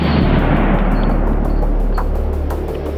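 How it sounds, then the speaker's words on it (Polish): A rimfire gunshot fired at a padlock fills the whole stretch with a loud, sustained blast and rumbling echo, close and harsh, with no voices. "Strzelamy dalej."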